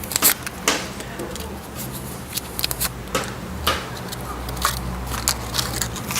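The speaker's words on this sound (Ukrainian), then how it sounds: "пакет розривається на дві частинки" A sturdy bandage package being torn open by its central pull thread, close-up crinkling and crackling of wrapper material with repeated sharp rips and rustles scattered across the whole stretch.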